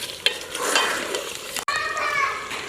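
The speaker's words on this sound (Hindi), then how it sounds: "इसे मैं मज़ीद भून लूँगा।" Beef sizzling and being stirred in a pan with green chilies, a steady close frying hiss with scraping stirs and a sharp clink, faint voices in the background.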